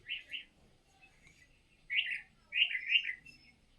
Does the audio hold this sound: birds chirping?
yes